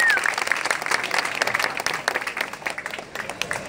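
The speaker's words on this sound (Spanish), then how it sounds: "Que Tayo Béjar me la recibe con un fuerte aplauso" A large audience at an outdoor political event in Ovejas, Sucre, applauds warmly. Dense, steady clapping carries on throughout, with a few faint voices mixed in.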